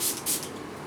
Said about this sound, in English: And then finally I'm going to be taking a setting spray.